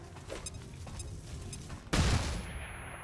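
Flashbang grenade going off in XCOM 2: after quiet game ambience, a sudden loud burst with a ringing tone trailing off over the next second.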